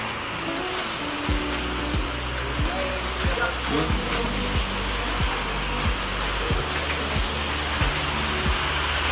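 Steady, dense rain hisses throughout, with a low rumbling undertone and occasional faint sounds beneath it.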